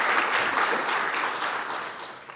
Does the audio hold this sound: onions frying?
no